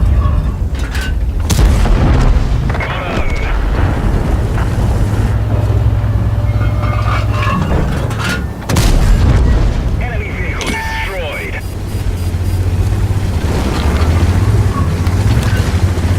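A tank cannon firing in an online tank battle game, with deep booming shots and rumbling engine noise beneath someone talking throughout over the gameplay.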